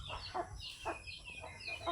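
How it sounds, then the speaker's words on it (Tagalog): Chickens clucking in short, repeated bursts against a steady low background rumble, moderately close and fairly quiet. "Naatay manok nga binuhi"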